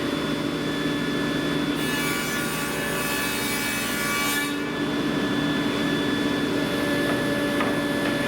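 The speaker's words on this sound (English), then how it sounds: "And we can make our first dado." A saw cuts a dado across a wooden nightstand panel held against the fence, giving a steady, loud, continuous whir with a brighter grinding stretch in the middle as the blade passes through the wood.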